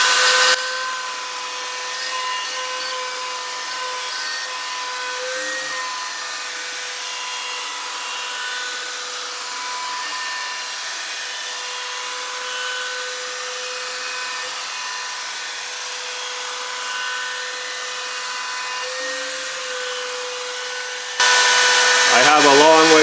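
A CNC table router makes cutting passes one millimeter deeper each time, giving a steady, unbroken mechanical drone with a high whine throughout, ending in a louder, harsher burst near the end.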